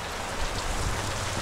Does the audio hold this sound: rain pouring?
yes